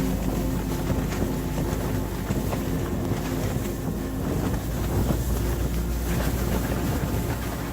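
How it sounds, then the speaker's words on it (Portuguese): Steady outdoor wind blows continuously, a broad roaring rush with microphone buffeting throughout and no voices present. "Faz 1 dia e meio que tá ventando."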